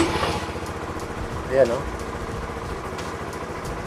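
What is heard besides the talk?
Honda Supra GTR150 motorcycle engine started and idling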